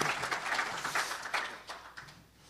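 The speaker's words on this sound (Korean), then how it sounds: "이 장관님께도 박수 부탁드립니다" Audience applause at a forum marking an inter-Korean summit declaration anniversary, many hands clapping at moderate distance, swelling in uneven bursts before tapering off at the end.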